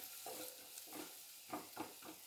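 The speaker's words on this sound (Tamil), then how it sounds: "குக்கர் விசில் வர்றதுக்குள்ளார நம்ம முந்திரியை நெய்யில் வறுத்துக்கலாம்" Cashews roasting in ghee in a pan, a soft steady sizzle with gentle stirring scrapes at intervals, quiet and close.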